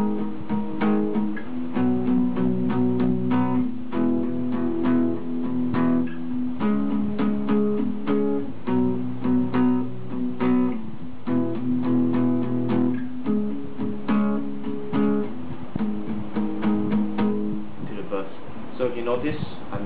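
Acoustic guitar strummed with steady downstrokes on the top few strings, playing the intro to Hillsong's Adonai; even, rhythmic chord strikes ring out clearly and continuously with no talking.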